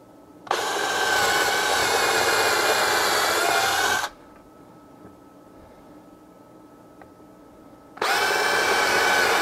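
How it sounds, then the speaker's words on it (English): A power drill drives screws into wooden hole plugs in two loud, steady whirring bursts, the first lasting several seconds, then a quiet pause before the second starts. "just screw my hole plugs that I pulled out of the one in the back into the one that I'm trying to fill"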